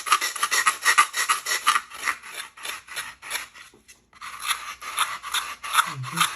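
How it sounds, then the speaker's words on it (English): Sandpaper rubbing along the edge of a foam core mock-up bottle in quick back-and-forth strokes, a dry rasping rhythm close up that pauses briefly midway and then resumes. "So I'm just going to kind of sand that down a little also."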